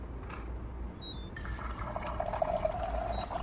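Warm water poured into a glass of St Remy XO brandy, a soft trickling fill that grows brighter and steadier toward the end, close-up and fairly quiet with no talk.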